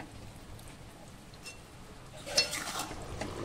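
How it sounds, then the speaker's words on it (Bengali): Spicy chicken curry is stirred and sautéed in a pan, giving faint soft scraping and a light sizzle, with one sharper clink of a utensil against the pan near the middle. "তারপরে কষতে হবে, চিকেনটাকে কষতে হবে।"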